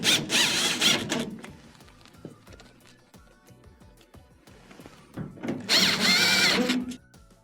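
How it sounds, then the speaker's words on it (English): A powered driver whines in two short bursts while sinking Phillips screws into the back panel of a Frigidaire washer. Quiet handling noises fill the gap between the bursts. "Reinstall your 2 Phillips screws on the back."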